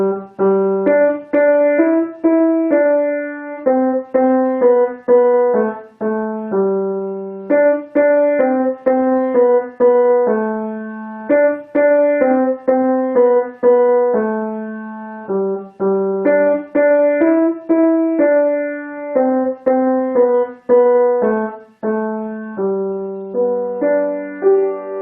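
Piano plays a simple beginner melody of single notes and small groups in a steady, unhurried rhythm, each note ringing clearly in a quiet room with no talk.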